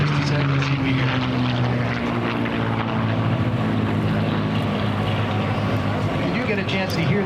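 A continuous, loud F-16 jet engine drone at an air show, with a rising whistling whine layered over the low rumble as it climbs, sustained throughout.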